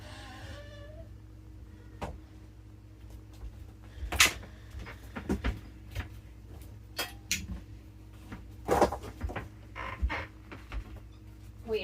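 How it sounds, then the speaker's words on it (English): An unlevel camper's door that will not stay shut swings and knocks, giving a few sharp close bumps and clicks over a steady low hum indoors. "We are not leveled, so this door will not stay closed at the moment."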